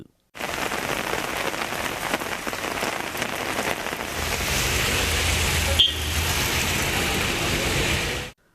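Heavy rain pours onto a road in Tamil Nadu, a dense, steady hiss of drops throughout, with a low rumble of passing traffic joining partway and a brief sharp knock near the end.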